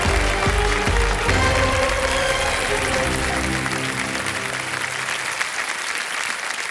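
Sustained applause from an audience at a stage event honouring a young woman, a dense steady clatter of many hands with music-like tones underneath, continuing loud throughout.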